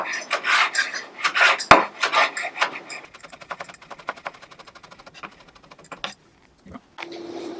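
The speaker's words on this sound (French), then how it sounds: "je vais déjà émincer mon aneth" A knife minces fresh dill on a cutting board, first in loud, uneven chopping strokes, then in a fast, light run of rapid taps that fades toward the end.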